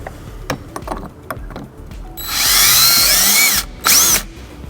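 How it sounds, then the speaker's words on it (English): A power drill whines steadily for about one and a half seconds while boring holes in a 2006 Buick Rendezvous for hitch wiring bracket hardware, then stops and gives a short second burst, preceded by light handling taps. "we're gonna go ahead and get some holes drilled for our hardware"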